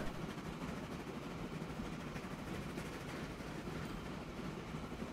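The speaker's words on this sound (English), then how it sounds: "we have another train trying to deliver food" A freight train carrying food runs along its line in the simulation game Transport Fever 2, a steady low rumble of rolling wagons without distinct clacks or voices.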